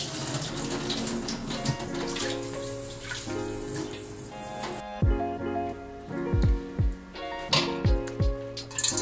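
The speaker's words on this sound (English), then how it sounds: "I'm gonna start rinsing them to clear out all the black stuff." Tap water runs steadily over sea urchin roe (uni) being rinsed in a kitchen sink, a broad rushing stream for about five seconds before breaking into uneven splashes and knocks, with faint tonal sounds underneath.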